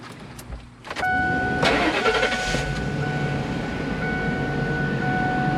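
After an abrupt start about a second in, a replacement AC blower motor in a Ford F250 truck runs with a steady whooshing rush of air and a faint motor whine. Nobody speaks over it.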